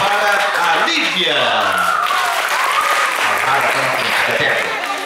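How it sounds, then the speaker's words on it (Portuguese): Circus crowd clapping for a contestant in a small-town ugliest-man contest, loud sustained applause from start to finish while an announcer's voice is heard over it. "Palmas para a Lívia."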